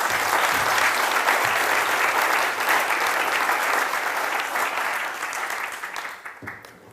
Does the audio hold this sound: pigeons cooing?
no